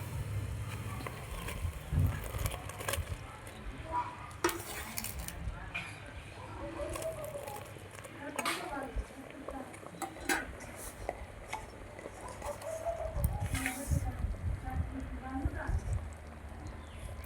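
Wheat flour lapsi being stirred in a pot, with repeated scraping and clinking of a spoon against the metal pot, steady throughout under a voice talking.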